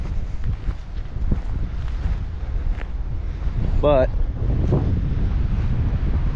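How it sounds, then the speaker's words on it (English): Wind blows hard by a pond in the country, buffeting the microphone in a continuous low roar with gusts, while a voice speaks briefly and a faint bird call cuts through near the middle. "And it is windy"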